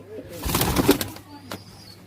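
Pigeons from the Attari border area give a brief soft burst of cooing and fluttering close by, lasting only a moment.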